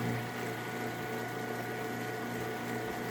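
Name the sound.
Kenmore 80 Series washing machine pump draining water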